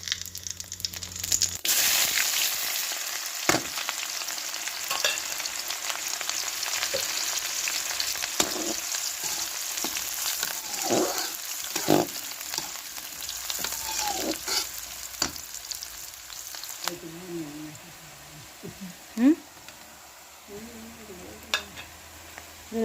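Oil heating for frying on a stove in a home kitchen, giving a continuous hiss with scattered crackles and pops, plus intermittent clatter of utensils.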